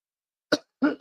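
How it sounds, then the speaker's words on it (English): A person coughs close to the microphone, one short cough followed by a double cough, in otherwise silent surroundings. "I'm so sorry to cough on."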